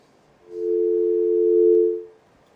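A single steady telephone line tone on a radio call-in line, loud and close, holding for about a second and a half before cutting off, with no talking.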